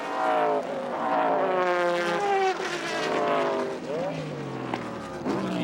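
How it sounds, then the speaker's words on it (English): Judd V10 engines in endurance prototypes scream past a racetrack during a 2002 Grand-Am race at Fontana, high-pitched wails rising and falling as cars shift and pass, loud and continuous under a commentator's voice. "Judd V10s just sound so good."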